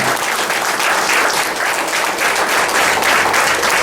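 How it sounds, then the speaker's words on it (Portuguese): A church congregation at a revival service applauds for Jesus; sustained, dense clapping from a crowd, steady and loud throughout. "Vamos aplaudir o Senhor Jesus?"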